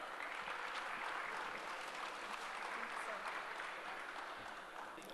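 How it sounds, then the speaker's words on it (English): A seated audience at a professional seminar on GST gives a steady, full round of applause welcoming a speaker, a dense continuous wash of clapping that holds evenly for about five seconds. "Please give him a big round of applause."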